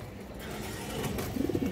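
A pair of khaki-throated pigeons coos close by, low soft calls rising toward the end over a steady background hiss.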